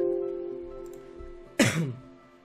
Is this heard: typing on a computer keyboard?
no